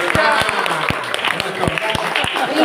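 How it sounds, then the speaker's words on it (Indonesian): A church congregation claps together in unison during an opening sermon at a synod gathering on Samosir Island; sharp, rhythmic, evenly spaced claps, fairly close and loud, with voices murmuring underneath. "Bagaimana kalau kita tepuk tangan bersama-sama?"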